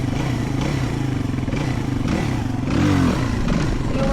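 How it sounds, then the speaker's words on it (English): A motorcycle engine idling at low speed during slow sit-down circle and wheelie practice, given small quick blips of throttle with the clutch slipped, a steady close rumble with a brief rise in revs midway. "So try to listen to the engine as well."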